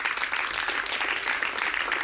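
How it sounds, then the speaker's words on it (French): A studio audience at a talk show applauding, continuous dense clapping at steady loudness across the whole moment. "On applaudit."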